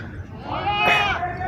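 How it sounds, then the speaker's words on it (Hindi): A Teddy goat, crossed with a pure Gulabi Teddy, lets out a single loud, close bleat that wavers for about a second. "ये टेडी बकरी है"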